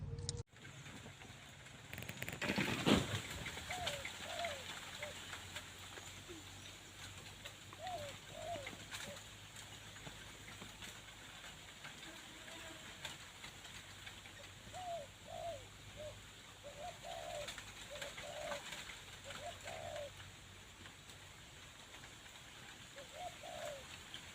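A caged decoy dove coos in short repeated phrases while birds are being trapped outdoors, the soft calls recurring at intervals over a steady hiss of ambient background.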